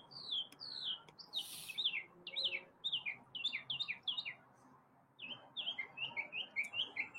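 Morning birdsong, with repeated bright chirps and short trilled phrases in quick bursts, fairly close and clear over a faint outdoor background, pausing briefly before resuming.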